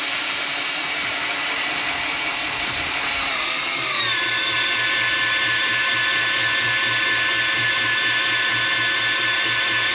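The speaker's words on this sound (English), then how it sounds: "let's switch the drill into low gear and try it." A power drill driving a hydraulic pump from an Oliver tractor whines continuously at close range, its pitch dropping partway through as it shifts into a slower, lower-geared run with a rhythmic pulsing.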